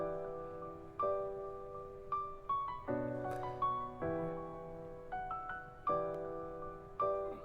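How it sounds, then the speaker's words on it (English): Piano notes struck one after another over sustained chords, a steady melodic line with clear attacks and gentle decays, close and moderately loud. "that's just a piano over the chord"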